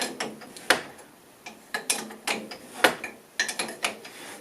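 Metal adjusting collar being turned on a car coilover of a 1971 Gilbern restomod, giving close, irregular ratcheting clicks and scraping taps in short bursts.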